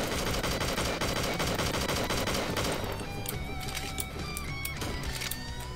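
Rapid bursts of video-game gunfire in a nightmare-themed horror map, dense and loud for the first half, then thinning into scattered shots and metallic clicks with no talking.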